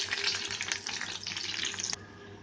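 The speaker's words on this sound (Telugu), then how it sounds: "నేను ఇక్కడ ధనియాలు, జీలకర్ర, ఎండుమిర్చి, పచ్చిమిర్చి, ఎల్లుల్లిపాయలు వేసేసుకొని వేపుకుంటున్నానండి" Coriander seeds, cumin, dried and green chillies and garlic frying in oil in a kadai for ridge gourd chutney, a steady close sizzle with stirring scrapes, ending abruptly.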